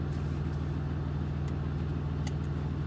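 A 2015 Ram 2500 pickup with a 6.7 Cummins diesel and G56 six-speed manual hums steadily at a low, even rumble, heard from inside the cab with no voices.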